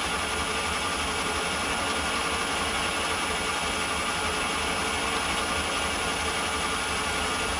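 An old imperial Myford lathe takes a very light cut of about two thousandths of an inch while turning a pin, producing a steady, even mechanical hum and hiss that runs unchanged throughout, with no talk.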